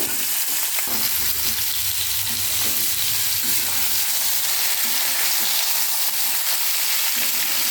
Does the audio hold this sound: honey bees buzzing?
no